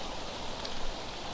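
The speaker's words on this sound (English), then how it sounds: "The rain drowned my spirits and forced me to consider looking for any form of shelter available in the cemetery" Steady rain pours over a cemetery in a video game, a dense, even hiss with faint droplet detail and no pauses, heard alone at moderate distance.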